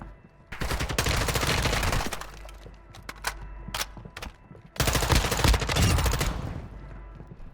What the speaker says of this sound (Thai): ใครยิงมาวะ